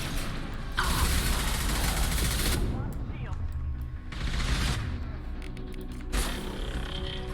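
Bursts of gunfire rattle in Mass Effect 2 during a Legion loyalty mission, three loud sustained volleys of rapid shots separated by quieter combat noise and mechanical clatter, with faint in-game voices underneath.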